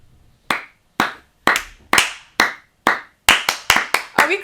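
Hand clapping by a person in a podcast conversation: about ten sharp, distinct claps in a loose, slightly quickening rhythm, close and loud, with no talk over them.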